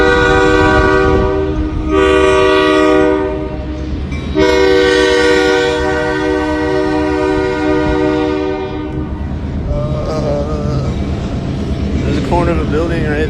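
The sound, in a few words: train passing and sounding horn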